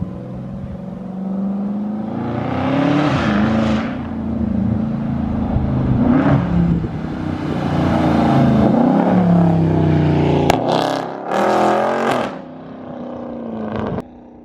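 A straight-piped 2021 Dodge Charger Scat Pack widebody, dual exhaust, loud and close, swelling through sustained revs and downshifts with deep throbbing blips, then sharp pops and crackles near the end.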